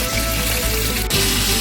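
Chicken fries in a pan on a stove inside a van, a loud, close, continuous crackling sizzle with no talk.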